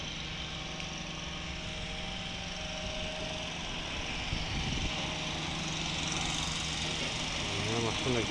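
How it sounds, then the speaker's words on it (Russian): Construction site machinery running steadily at a distance, a continuous engine drone with low mechanical hum throughout, growing slightly louder toward the end. "Стройка идет полным ходом, походу."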